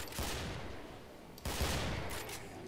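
Hand cannon gunfire in a first-person shooter, a dense, continuous spray of shots with two sharper bursts standing out, heard at moderate level with no speech over it.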